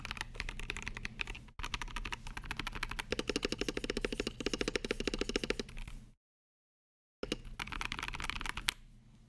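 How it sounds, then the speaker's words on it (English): Rapid clicking keystrokes on a mechanical keyboard fitted with swapped switches, loud and close, in steady bursts broken by a brief silence before typing resumes. "that sounds so much better in this keyboard."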